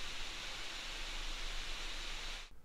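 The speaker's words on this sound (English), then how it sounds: "When rendering a video, the fan goes full blast and sounds something like this." A Tuxedo InfinityBook Pro 14 Gen 6 laptop's cooling fan roars at full speed under rendering load, a steady airy hiss heard up close, cutting off abruptly near the end.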